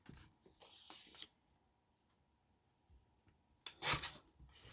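Paper from a vintage sewing book being cut for a collage, with short rasping scissor snips in two brief clusters separated by near silence.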